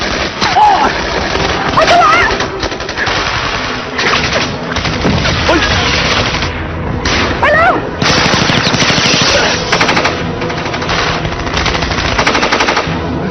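Rapid machine-gun fire and gunshots crackle almost without pause during a frantic evacuation, with loud bursts and a few booms layered over shouted voices throughout.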